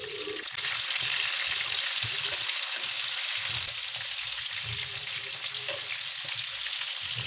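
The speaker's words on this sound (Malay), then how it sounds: "Digoreng udang tu sampai habis ya." Shrimp fry in hot oil with a loud, close, constant sizzle, broken by the scrape and shuffle of stirring, and no voices over it.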